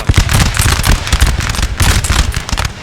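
Dense, crackling musket volleys from the Napoleon Total War battle keep going without a break, loud, close and rapid, with no one speaking.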